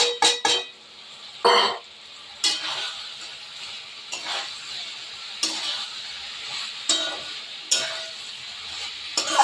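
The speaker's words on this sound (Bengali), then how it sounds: "এগুলো মাছগুলো দিয়ে একটু কষিয়ে নেব" Tangra fish with spices is stirred in a hot pan, producing irregular scraping and clattering strokes of the spatula over a soft, continuous sizzle, close and fairly loud.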